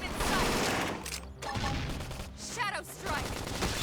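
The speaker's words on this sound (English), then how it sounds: "Topple them with some gunfire!" Gunfire from a combat battle in the video game Xenoblade Chronicles X: Definitive Edition, with dense bursts of shots and impacts, loud and close, mixed with game effects and shouted battle voices.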